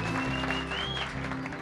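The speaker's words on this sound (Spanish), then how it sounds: "Aplausos para Oniesi." Applause for Oniesi, a contestant on the Cuban television program Palmas y Cañas, from a studio audience. Clapping of moderate density sits under a sustained musical tone and low hum for the whole brief span.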